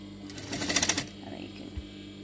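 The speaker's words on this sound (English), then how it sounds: "on this particular machine you hold this pedal bit down, you can press it, the machine will go backwards" An upholstery sewing machine runs in reverse for a short burst of rapid needle stitching, then stops with a thud, close and moderately loud.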